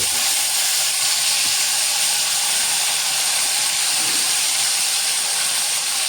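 Drumsticks fry in hot spiced oil tempering with red chili powder, producing a dense, loud, continuous hiss and sizzle that stays steady throughout without pause.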